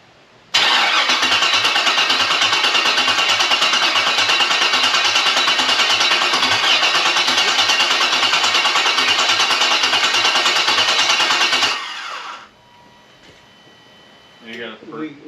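An LS V8 swapped into a 1987 K5 Blazer, with a leaky fuel rail, fires up for the first time and runs loud and steady for about eleven seconds before cutting off, followed by faint talk.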